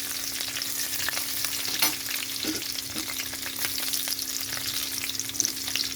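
Green chillies and garlic sizzle in hot oil in a pan, a steady crackling fry with occasional scrapes and pops as they are stirred, no voices.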